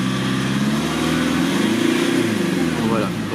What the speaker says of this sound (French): le moteur est chaud, donc ce qu'on va faire, c'est qu'on va accélérer